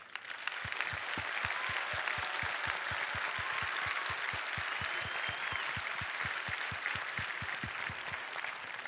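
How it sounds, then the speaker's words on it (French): An audience at a startup trophy company event applauds a pitch with fast, rhythmic clapping in unison, strong regular beats over a continuous bed of crowd applause lasting several seconds. "Donc par applaudissement pour Alexandre."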